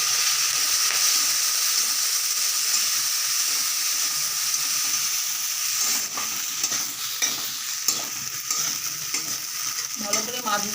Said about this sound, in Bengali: ভালো করে মাছগুলোকে ভেজে নিতে হবে।